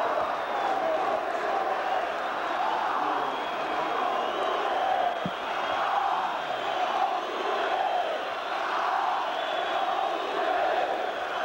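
A packed football stadium crowd at a Palmeiras versus Corinthians Brazilian league match roars continuously during a player substitution, a dense, steady wash of mixed cheering and jeering with no clear pauses.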